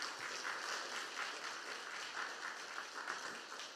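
A church congregation applauds to welcome a visiting pastor at a revival service, steady, dense clapping from a full room that holds at an even level for the whole stretch without a break.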